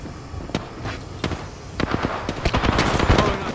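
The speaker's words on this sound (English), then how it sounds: "Getting shot at." Apex Legends gunfire: sharp scattered shots cracking near and far, building into dense rapid automatic fire, loud and with little talk.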